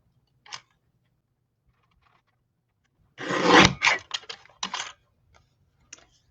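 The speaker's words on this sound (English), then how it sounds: "So I'm just going to cut right at the top of that tidings." Scissors snip through a paper sentiment strip in a quiet craft setting, a dense cluster of crisp cuts followed by several short separate snips and one faint click near the end.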